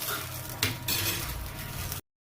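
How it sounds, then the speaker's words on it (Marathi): Green chillies fry in a pan with a steady sizzle, punctuated by a couple of brief scraping stirs and clinks of a utensil, ending abruptly. "छान अशी फ्राय करून घ्यायची आहे मिरची"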